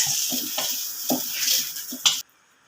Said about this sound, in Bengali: ঢেঁড়সগুলো ভাজা হয়ে গেছে,